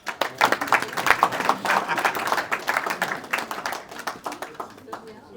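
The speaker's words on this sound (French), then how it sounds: "on va applaudir son mari" A graduation ceremony audience applauds in a steady wash of clapping that holds throughout and thins slightly toward the end, with a voice faintly audible beneath it.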